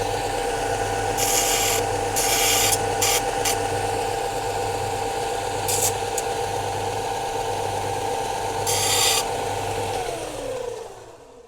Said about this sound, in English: excuse me for a minute while I just take to my bench grinder